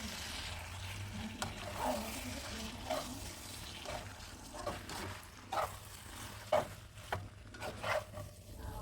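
Tom yam spaghetti frying in a pan as it is stirred, a steady soft sizzle broken by repeated scraping clacks of the utensil every second or so, close up and with no voices.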